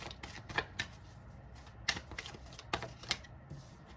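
A deck of tarot cards shuffled by hand, heard as a series of quick, crisp riffling bursts with short pauses between them, close and fairly quiet with no talking.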